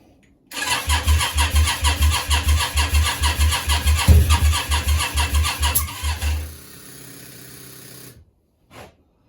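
A Yamaha Virago 535 motorcycle engine cranks on the starter with choke on, a steady rhythmic chugging of about twenty loud strokes with one small pop, then it stops without catching and goes quiet.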